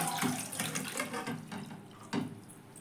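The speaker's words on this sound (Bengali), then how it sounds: "এবার ধুয়ে রাখা আলুটা জল সমেত আমি এটাতে ঢেলে দেবো" Washed potatoes and their water are tipped from a bowl into a pot on a gas stove, a steady close splashing pour with a couple of heavier gushes, no voices.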